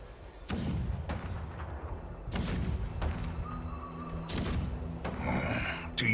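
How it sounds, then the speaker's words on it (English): Deep booming thuds of cannons rumbling in the game Honkai Star Rail, several heavy blasts spaced a second or so apart, each rolling off under a low sustained background. "The rumble of the cannons."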